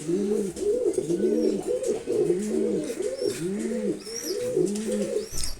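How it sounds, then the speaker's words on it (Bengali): A male red checker pigeon coos repeatedly up close, rhythmic throaty bursts rising and falling steadily, with faint chirps from other birds in the background. "রেড চেকার নর কবুতর"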